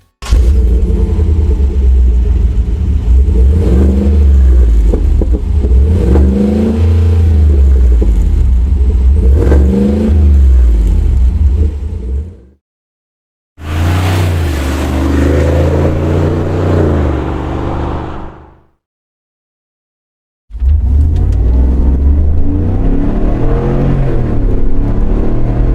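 Chevy Tahoe 5.3 V8 revving through an aftermarket stainless steel exhaust, deep loud rumble with repeated throttle blips in three bursts separated by brief silences.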